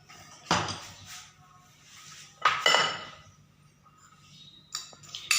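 A spoon clinks against a bowl while spices are mixed into a Pakistani fruit chaat, giving a few sharp, separate metallic taps spaced a couple of seconds apart over a quiet kitchen background.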